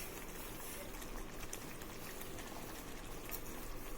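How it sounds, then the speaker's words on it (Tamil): Quiet, steady bubbling of a thick masala mixture for roadside masala puri boiling in a pot, low and continuous with soft pops. "நல்லா கொதிக்கட்டும்"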